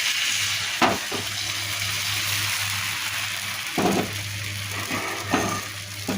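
Batter sizzles steadily on an oiled tawa, a continuous close frying hiss with a low hum underneath and a few brief scraping clicks from a spoon spreading it.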